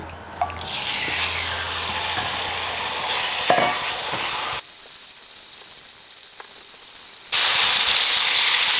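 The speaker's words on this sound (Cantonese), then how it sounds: "咁我哋用大火煎到佢7-8成熟啦" Chicken pieces fry in oil over high heat for a black bean stir-fry, a close hiss that fades to quiet after a few seconds before a bright, loud sizzle bursts back in near the end.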